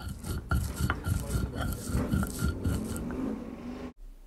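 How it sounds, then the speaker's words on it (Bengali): Dried red chilies ground on a grinding stone for bhorta, a rough repeated scraping and rubbing with irregular strokes, close and fairly loud, ending in a sudden cut to near silence. "প্রথমে শুকনো মরিচটাকে বেটে নিচ্ছি"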